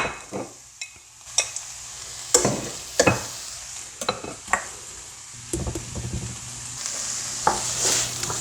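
A butter, flour and chicken stock sauce stirred in a pan, with a spoon clinking and scraping against the metal in irregular knocks over a steady low sizzle, close up and without talk.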